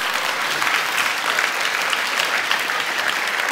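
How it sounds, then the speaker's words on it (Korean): A church congregation applauds together during a worship service, steady broad clapping holding at an even level throughout with no speech over it. "박수 한번 주세요."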